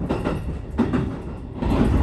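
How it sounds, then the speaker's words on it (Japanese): A JR West Kusatsu Line train pulling out of platform 3 and running straight through a switch, giving a steady low rumble of wheels with a few rhythmic clacks, close and continuous. "3番乗り場から草津線に入線するときは分岐器を直進側にのみ通過するので、勢いよく飛び出していきます。"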